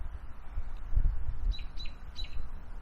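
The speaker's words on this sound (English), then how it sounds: "Birds chirping away." Small birds chirp in a quiet park after rain, a few short high tweets in quick succession rising over a soft low background rumble, fairly faint and distant, with no voices.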